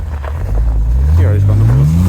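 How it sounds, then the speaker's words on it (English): A car's wheels spinning in snow, the engine revving loudly with a steadily rising whine over about two seconds, close by, with people's voices mixed in. "He already spun the wheels."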